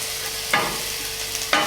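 Tofu with onions, peppers, tomato and spinach cooking in a pan, a soft steady sizzle marked by two brief stirring scrapes about a second apart.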